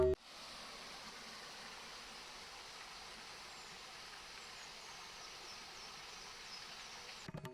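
Water flows steadily beneath bushes below a hillside of pine trees, a soft, constant rushing hiss that stays faint and even throughout, with no voices.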